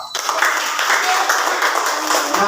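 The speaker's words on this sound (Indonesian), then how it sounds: "Tepuk tangan buat si Resa." Children in a classroom clap for a classmate, a dense burst of close, loud applause that holds steady for a couple of seconds, with a voice briefly heard over it.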